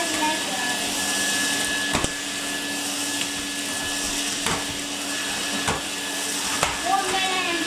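Red and green Henry Hoover and Hetty vacuum cleaners run flat out in a vacuuming race, a loud, steady motor roar and whine with occasional knocks of the nozzle, while voices are heard faintly underneath.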